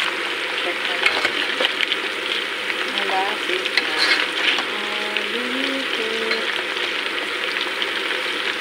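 Cauliflower fries in a pan with a steady, close sizzle and occasional stirring noises, while a voice murmurs faintly in the background.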